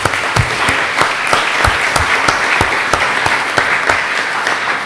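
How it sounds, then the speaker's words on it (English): A lecture audience at a Max Planck Institute innovation event claps for a professor, brisk, fairly close clapping with some sharp individual claps standing out, continuing steadily. "Big applause for Professor Planck."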